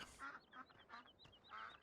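Several short duck quacks from ducks swimming on a small pond in Farming Simulator 17, a quick burst of honking calls close by with brief gaps between them.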